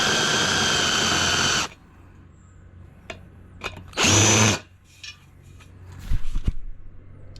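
A power tool chamfers the edge of a hole on a pneumatic double beadlock so it will seat an O-ring, heard as two short, loud bursts of high whirring with quiet gaps and small clicks and knocks between them.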